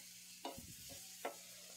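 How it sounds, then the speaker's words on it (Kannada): Masala sizzling and being stirred in hot oil for a bangude (mackerel) pulimunchi fry, with two short scraping stirs over a faint steady sizzle. "ಚೆನ್ನಾಗಿ ಮಸಾಲೆ ಫ್ರೈ ಮಾಡಬೇಕು ಎಣ್ಣೆಯಲ್ಲಿ"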